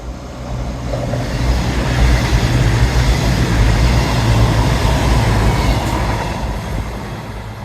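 A fast train roars steadily past at close range, passing through Dawlish station without stopping, a loud continuous rush of wheels and wind that swells and then eases slightly.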